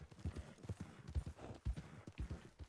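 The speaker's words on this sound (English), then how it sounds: "Oh, it's a horse. There's a lot of wild horses over here." A horse's hooves clip-clop at a steady walking rhythm in the Red Dead Redemption 2 video game, in an overgrown area with wild horses, fairly quiet and continuous with no talk.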